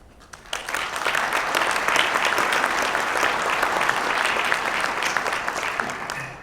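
Conference audience applauding at a drone industry event, a dense sustained wash of clapping that starts abruptly, holds steady at full strength, then eases slightly near the end.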